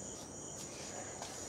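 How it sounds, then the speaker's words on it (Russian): Crickets chirping at night in Goa, a faint, steady high-pitched trill with a few slightly stronger pulses, heard alone against a quiet background. "тут сверчки чирикают"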